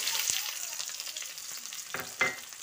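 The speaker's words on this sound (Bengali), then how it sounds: "ফোড়নটা 2-1 সেকেন্ড ভাজার পর এর মধ্যে 2টো বড় সাইজের কুচনো পেঁয়াজ দিয়ে দিচ্ছি।" Large chopped onions frying in hot oil over tempered whole spices for chicken masala, a close continuous sizzle with a few sharp pops and stirring scrapes near the end.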